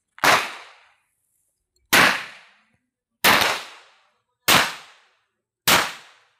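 Five loud, sharp gunshots ring out one at a time at steady intervals, each followed by a short decaying echo.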